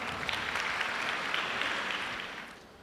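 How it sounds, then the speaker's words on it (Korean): A university information-session audience applauds to welcome a political science professor, a dense, steady wash of clapping from many hands that fades away toward the end, with no voices over it. "박수로 환영해 주십시오"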